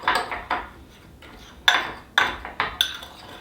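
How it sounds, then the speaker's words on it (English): A fork mixes barbecue sauce in a bowl, producing a series of separate clinks and scrapes against the bowl, some sharp and close, spaced irregularly with short pauses between them. "You might want to use a fork to mix this up."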